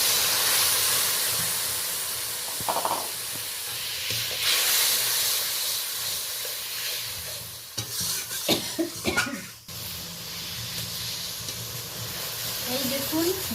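Ground spices mixed with water are added to hot oil for a spicy fish curry, giving a steady near hiss and sizzle with stirring scrapes and a few pan clatters, under intermittent talk.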